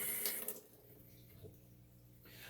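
A paintbrush is rinsed under a running tap, with a steady, soft rush of water and faint splashing close by.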